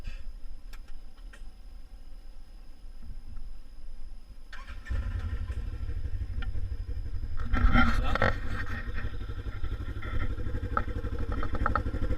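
Polaris RZR 1000 XP side-by-side starts with a cranking burst, then settles into a deep, loud idle rumble with a swelling rev, while a voice speaks briefly near the start.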